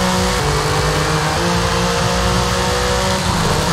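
A Lamborghini V10 engine in Forza Horizon 5 roars loudly and steadily during a long night drag race, close and continuous with shifting pitch, no talk over it.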